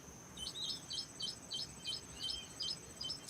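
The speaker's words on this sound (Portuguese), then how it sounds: "Eu estou até ouvindo um passarinho aí no fundo." A small bird repeats a quick high chirping phrase about eight times in an even rhythm, faint and distant against a quiet background hiss.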